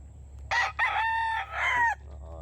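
A rooster crows loud and close, one long multi-part cock-a-doodle-doo lasting about a second and a half, against a steady low background hum.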